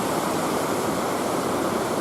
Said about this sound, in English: So there is a big waterfall up there.